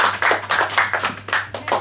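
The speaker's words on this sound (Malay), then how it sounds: "Okey, berikan tepukan." Classroom students clap their hands together in a short, loud burst of quick rhythmic claps, each sharp hit distinct and close, with no talking over it.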